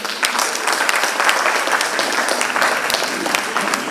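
Enthusiastic applause welcoming the chief guests at a Republic Day celebration at Nav Sadhana Kala Kendra in Varanasi, a crowd clapping steadily and close, a dense even wash of claps throughout.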